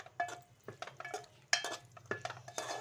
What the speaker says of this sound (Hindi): अच्छी तरह से यहाँ मिक्स करेंगे